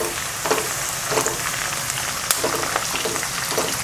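Four sprigs of curry leaves fry in hot oil for lime pickle, a dense continuous crackling sizzle close by, with soft stirring scrapes rising through it.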